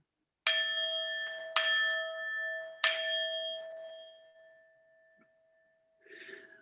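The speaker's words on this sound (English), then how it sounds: "we'll always like to begin with 3 rings of the bell." A bell, struck as part of a grounding exercise, rings three times, about a second apart, each a clear sustained metallic tone that decays slowly, close and alone in a quiet room with a faint rustle at the end.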